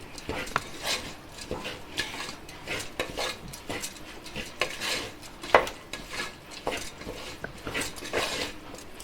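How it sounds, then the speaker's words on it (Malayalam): A spoon scraping and knocking in a pan as tomato rice with masala is stirred, with irregular clinks and rubbing strokes over a soft sizzle, close and fairly quiet. "ഒരു 2 മിനിറ്റ് നമ്മൾ ഇതുപോലെ ഇളക്കി കൊടുക്കണം"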